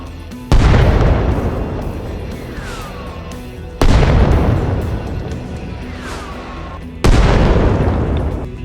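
Three heavy mortar shell explosions in the game Arma Reforger, each a sudden loud boom with a long rumbling decay, spaced roughly three seconds apart, with no talking.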